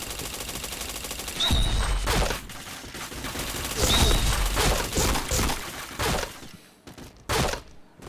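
Bursts of rapid gunfire in a shooter video game, loud and sharp, several volleys in quick succession with short gaps, then a few final shots after near-silence.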